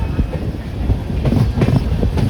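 A train pulls into Rani Kamlapati railway station in Bhopal, India's first privately run station, its wheels rumbling and clacking steadily over the rails with a dense low rush throughout, loud and close.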